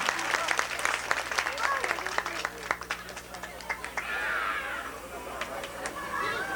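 An audience applauds a singer at a 1993 São Pedro talent show, a moderate patter of clapping hands from the crowd with a voice talking over it.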